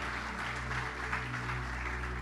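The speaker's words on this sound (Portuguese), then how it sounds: "Quantos podem aplaudir Jesus por isso, querido?" Church congregation applauding during a Portuguese-language sermon, a dense, even wash of steady clapping that holds at the same level throughout, with a low sustained hum beneath it.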